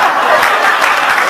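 Dense applause from a church congregation at an international congress, a loud, continuous wash of clapping that fills the whole moment without letup.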